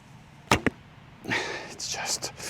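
Arrow loosed from a Korean horn warbow: a sharp double snap of the string, then a brief whooshing flight noise with fainter rustles, close and clear with no talk.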